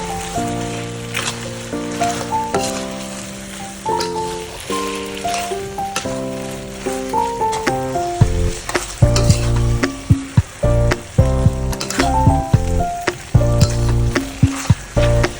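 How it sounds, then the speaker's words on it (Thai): Beef with chili and onion stir-fries in oyster sauce, the pan sizzling loudly and steadily while a spatula scrapes and clacks in repeated sharp strokes. "เติมพริกแล้วหัวหอมลงไปค่ะ ผัดจนกว่าพริกและหัวหอมจะสุกนะคะ"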